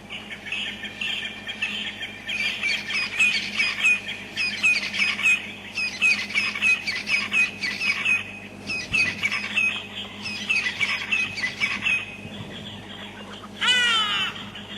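Repeated harsh, rasping francolin calls in rapid bursts, fairly close, with a loud cackling call sequence near the end over a low background hum.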